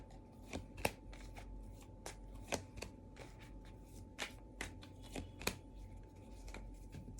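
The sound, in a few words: shuffling tarot cards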